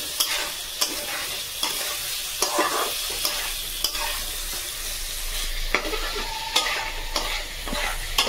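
Chicken masala being stir-fried in a pan on a rainy day, a steady sizzle broken by sharp scraping clicks of the spatula every second or so, close and fairly loud, no voices.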